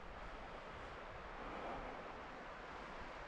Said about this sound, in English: there's just nothing happening but the stream